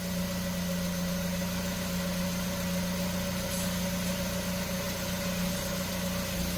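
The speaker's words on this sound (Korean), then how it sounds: "전원이 살다 보니까 시동이 걸렸어" A 2012 Renault Samsung New SM5 LPI, which stalls while driving, runs steadily after starting, a constant low idling hum with a droning tone, close and without talk.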